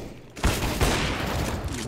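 A loud burst of rapid gunfire from CS:GO erupts suddenly after a moment of quiet, several close shots in quick succession that then fade into a dense, echoing tail.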